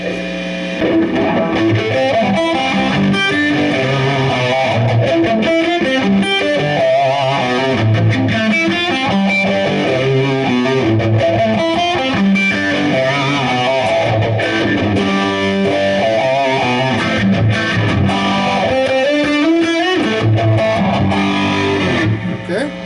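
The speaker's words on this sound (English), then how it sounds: "now let's try phase shifter" Distorted electric guitar through a phase shifter and overdrive plays continuously with a sweeping, swirling phase effect, loud and gritty, chords and riffs with no voices.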